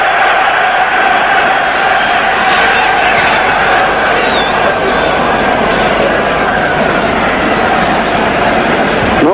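Large football stadium crowd roaring and murmuring in a steady, dense wash of noise at a 1977 European Cup final between Borussia Mönchengladbach and Liverpool, reacting to a shot on goal, with no clear peaks and no talk over it.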